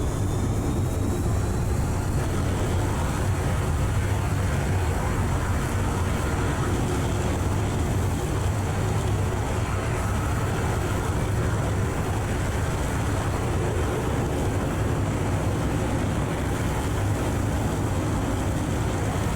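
Jet aircraft cruising at Mach 1 in the naval game Sea Power: a steady, dense roar of engine noise that stays loud and unchanging throughout.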